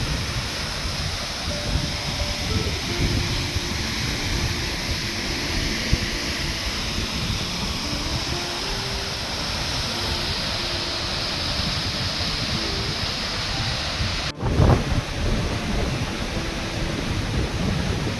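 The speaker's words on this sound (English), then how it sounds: "you can hear the roar of the waterfall, the cascade" Manthoka Waterfall in Skardu, Pakistan roars steadily and loudly in a dense, unbroken rush of falling water, with a brief thump near the end and no voices.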